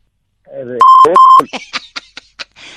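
Two steady electronic beeps from a phone call, each about a quarter second long, sound close and loud in quick succession. A voice speaks briefly just before them and in short bursts afterward.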